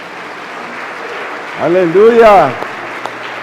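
A church congregation claps hands steadily under a preacher's sung, drawn-out exclamation, with the clapping continuing as background throughout.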